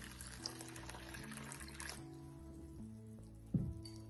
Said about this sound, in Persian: یه پیمونه نشاسته رو می‌ریزیم توی ظرف، با نصف از میزان آبمون مخلوط می‌کنیم